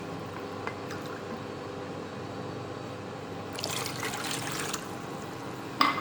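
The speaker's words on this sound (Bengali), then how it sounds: "আমি বাটি বসালাম, এই কাপে 2 কাপ জল আমি এর মধ্যে দিয়ে দিচ্ছি।" Water poured from a cup into a bowl to start sugar syrup for Gokul pithe: a soft, steady splashing trickle lasting about a second in the middle, set against a quiet kitchen background.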